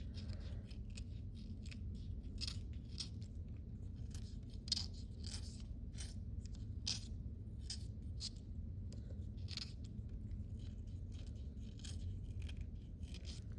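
A knife shaves wood off a pencil to sharpen it, giving a steady series of short, close scraping strokes over a low background hum.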